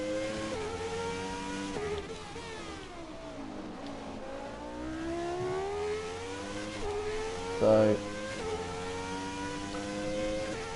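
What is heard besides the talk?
F1 car engine accelerating in video game F1 2017, Baku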